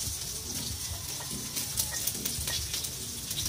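Onions and garlic frying in oil in a pan for pancit, a steady loud sizzle and crackle close up with light stirring and no voices.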